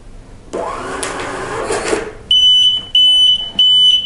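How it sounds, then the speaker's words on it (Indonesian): A Kassen KP3250 kitchen receipt printer rattles and rasps for a couple of seconds during a test print, then gives three loud, high electronic beeps in an even rhythm. "printer sudah mencetak dan bunyi apa ya namanya, beeper ataupun beep seperti ini"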